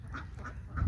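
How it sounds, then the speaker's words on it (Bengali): Ducks at a farm of about 600 birds on the bank of the Titas river give a few quick, close quacks in under a second. "এখানে 600 হাঁস এখানে আছে, একদম 600"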